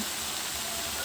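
Small-cut potatoes and bitter gourd sizzle in a kadai wok, giving a steady, even hiss with no break or talk.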